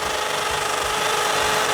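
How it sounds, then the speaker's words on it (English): A hammer drill bores holes into a wall for an outdoor TV bracket, giving a loud, continuous, harsh grinding roar close by for the whole stretch, with no talking. "here's Justin using the hammer drill"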